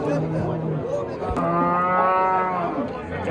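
A cow at a livestock market in Chuvama gives a long, loud moo with a clear rising and falling tone, close by, with faint background noise.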